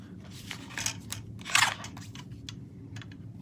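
Die-cut card paper being trimmed, a few short crisp snips clustered near the middle with a louder cut, heard close and alone over a low room hum.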